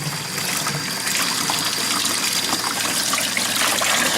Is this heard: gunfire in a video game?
no